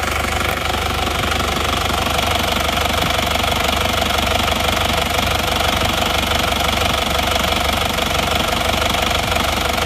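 A worn engine idles with a compression leak, giving a steady, loud, rough knocking chatter that runs without a break, close to the microphone and with no talk over it.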